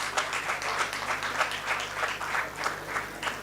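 Steady applause from the audience at an Army Institute of Management and Technology convocation fills the hall for awardees, a dense wash of many hands clapping at even loudness throughout, with a faint low hum beneath.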